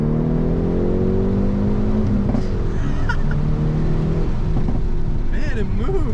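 Hyundai Veloster N pulling hard under acceleration, its engine a loud, steady drone from inside the cabin with the pitch climbing through the gears and a brief dip partway through.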